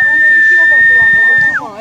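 Stadium crowd whistling at a player in a football video game, a sustained shrill whistle tone held steady for over a second before sliding downward, heard under loud, continuous commentator talk.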